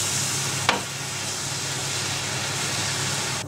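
Flour stirred into a green sauce for hake sizzles steadily in a pan, a constant close frying hiss with one brief scrape near the start.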